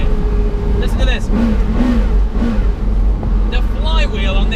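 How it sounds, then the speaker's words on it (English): V10 engine revs of a Porsche Carrera GT swell and drop in quick blips over a constant loud cabin rumble, with short bits of talking mixed in. "to a V10 Le Mans engine"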